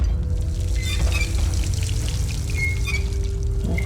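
Water pours steadily in Dishonored, a continuous close splashing stream with a low rushing body, unbroken and alone for a few seconds.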